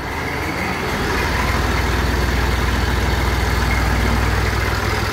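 A tractor engine idles steadily at close range, a continuous low diesel rumble with a regular throbbing pulse that holds for the whole stretch without speech.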